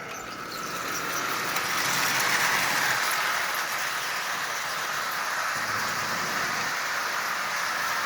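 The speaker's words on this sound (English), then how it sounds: "a new locomotive up and running and made completely out of junk parts" A Marx 999 model toy locomotive assembled from mismatched junk parts running on track, a steady whirring, hissing motor hum with faint rail clatter, close and continuous after a brief quieter start.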